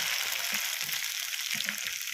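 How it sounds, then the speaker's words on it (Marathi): Corn poha frying in hot oil for Diwali chivda, a steady dense sizzle that holds even and close with no talk. "नाहीतर मग असेच हे तळून घ्यायचे"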